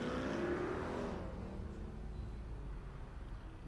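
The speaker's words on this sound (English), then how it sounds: "Francisco Dennis is out there in the number 188 Miata" Number 188 Mazda Miata race car on an autocross course at Daytona: a single engine revving and whirring past, loud at first then fading into the distance.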